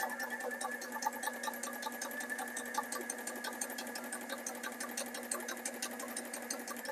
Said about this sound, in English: So it did such a great job stitching across this denim.